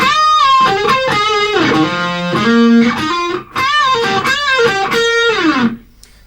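Loud distorted electric guitar plays the solo from a song. Fast runs and bent, sustained notes fill the clip, with a brief break midway and no voices.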